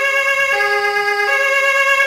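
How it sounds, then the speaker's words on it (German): An ambulance siren wails loud and close, its steady tonal pitch shifting between notes in a continuous alarm along the road. "deshalb kam auch der Rettungswagen dorthin."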